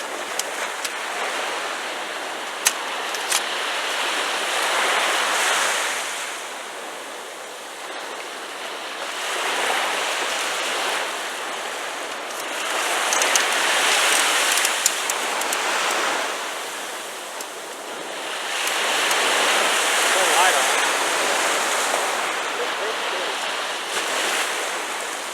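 Ocean surf breaks on a Florida beach in slow, rolling washes, each wave surging and hissing for several seconds before easing off, with wind buffeting the microphone and no talking.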